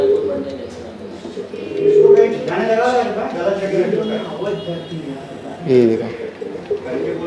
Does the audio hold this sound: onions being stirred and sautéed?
no